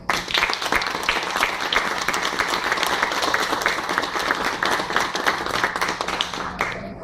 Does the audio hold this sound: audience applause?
yes